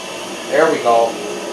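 A pellet stove blower runs with a steady, even whir that holds through the whole stretch, and a voice briefly speaks over it partway through.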